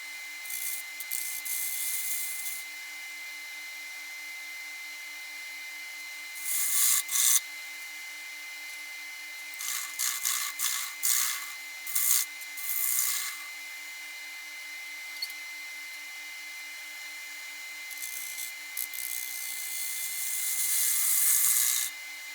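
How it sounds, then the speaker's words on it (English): A gouge cuts a spalted hackberry natural-edge bowl on a lathe, a steady shearing hum broken by several louder scraping bursts as the tool works the wall and bottom curve, with no talk. "I will eventually switch to a smaller gouge to get through that bottom curve and get it consistently thick with the rest of the wall"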